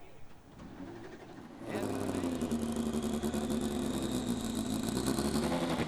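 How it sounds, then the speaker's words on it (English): Indy Lights race cars with Mazda engines fire up on the grid at Mid-Ohio, a quieter idle jumping at once into a loud, dense, sustained multi-engine roar that holds steady to the end. "drivers, start your Mazda engines"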